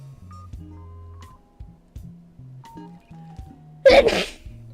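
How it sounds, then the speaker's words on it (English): A single sharp sneeze bursts out near the end over soft, steady musical tones. "I sneezed on it"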